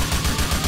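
M4 rifle gunfire from GTA 4 rattles in a fast burst of rapid shots, loud and close, with no talk over it.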